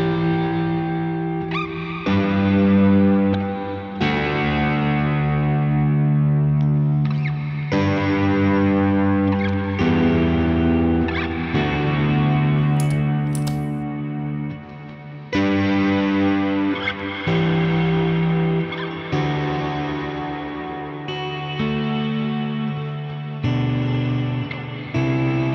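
Electric guitar through a Line 6 HX Stomp reverb with an odd fluttering warble, slow chords and arpeggios swelling and decaying in a wash of ambience, steady and close with no voices.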